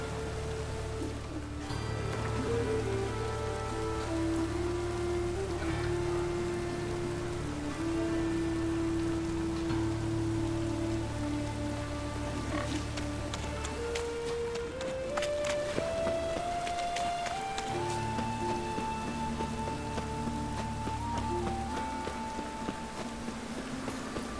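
Steady rain patters throughout under a musical score with sustained, shifting tones in The Witcher 3: Wild Hunt, with faint hoof-like clopping sounds occasionally in the background.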